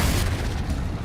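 A Confringo spell explodes in Hogwarts Legacy, giving one deep, loud, rumbling blast that fills the moment close up.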